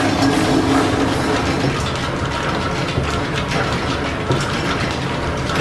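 An old steam-powered machine shop lathe turning slowly in low back gear while cutting a test thread at nine threads per inch, with loud continuous gear whir, ratcheting mechanical clatter and rhythmic knocking close by.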